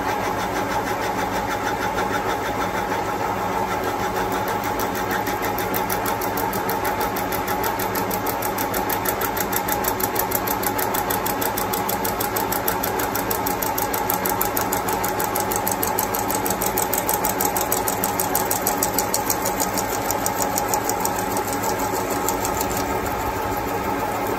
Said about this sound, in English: So 3-speed electric motor there